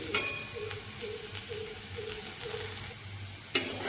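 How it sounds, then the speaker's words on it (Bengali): Potato pieces frying in oil for a chana dal dish, a steady soft sizzle with light scraping and faint clinks, moderately close and quiet, with no talk. "আলুগুলো আমার ভাজা হয়ে গেছে"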